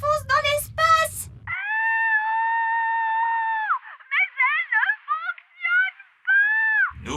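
A cartoon character, Nanny Plum, screams as she drifts helplessly into space after the air is sucked out of an elf rocket; one long sustained wailing cry is followed by shorter wavering yelps, loud and close.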